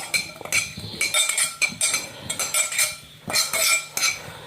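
A metal utensil stirs and scrapes food in a pan, giving a quick run of close clinks and scrapes with short pauses between strokes and a busier burst near the end, with no talking.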